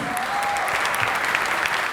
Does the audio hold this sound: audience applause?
yes